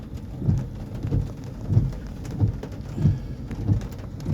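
Heavy rain pours down in a dense, steady hiss, with dull low thuds recurring at a regular pulse about every half second, close and moderately loud, with no voices.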